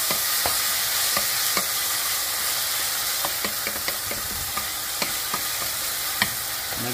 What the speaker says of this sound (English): Next I'm going to add some garlic, and I just put them in whole.